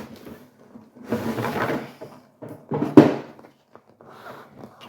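A pair of drawers on a secondhand console bought at a flea market slide open with rough scraping bursts and a sharp thunk near the middle, close by and without speech.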